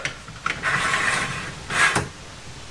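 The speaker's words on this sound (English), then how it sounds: "So now let's try closing it and opening it a couple times." A MORryde Safe-T-Rail bed rail is swung open and shut, giving short mechanical clicks followed by a sustained scraping, rubbing slide and a second brief swell of friction, close and fairly clear.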